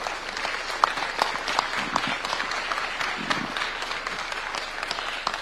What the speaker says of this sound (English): May we all stand with a hand clap to invite His Excellency.